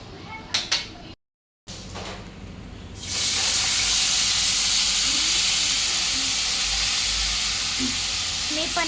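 Food sautéing in a pan at home, with a steady loud broadband sizzle that starts a few seconds in and continues to the end, after a few brief knocks and a short silent gap.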